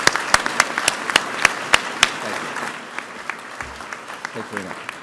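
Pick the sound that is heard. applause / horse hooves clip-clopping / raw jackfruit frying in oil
applause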